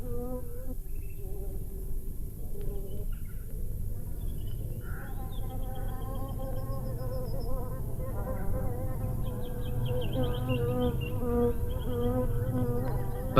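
Bees buzz steadily among forest heather in a continuous, fairly close drone with no talking.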